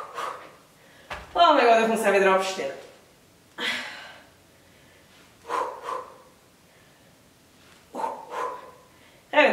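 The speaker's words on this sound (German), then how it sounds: "Das Schnaufen kann euch extrem helfen." Heavy panting, gasping breaths and snorting exhalations from a person straining through an intense ab workout at home, irregular bursts of breath close to the microphone with brief spoken words mixed in.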